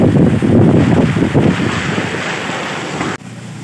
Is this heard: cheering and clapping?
no